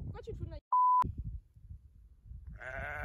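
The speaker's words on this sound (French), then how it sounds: "Y'a un mouton vieux!" On the Isle of Skye in Scotland, a sheep lets out a single wavering bleat near the end, after people chat and a short electronic beep cuts in.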